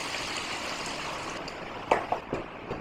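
Water poured into a simmering Bengali hilsa fish and taro curry, a steady splashing pour with a few clinks of utensil near the end, close and continuous.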